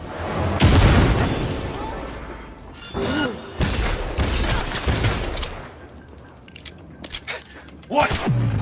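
Cyberpunk 2077 gameplay with a grenade blast followed by bursts of gunfire and booming impacts, loud and close, with a voice talking in between.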